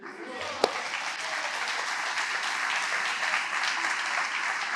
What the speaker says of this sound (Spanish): Cristo vive, ¿no se merece un aplauso fuerte?